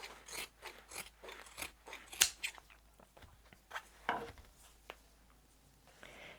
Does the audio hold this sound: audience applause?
no